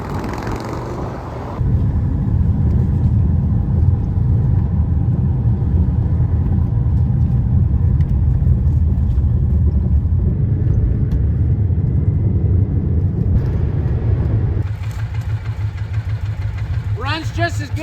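A Victory motorcycle with a suicide clutch, not run for years, idles with a steady low rumble up close that rises in loudness and holds for about thirteen seconds before settling back.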